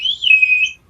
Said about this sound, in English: Look, I love this whistle.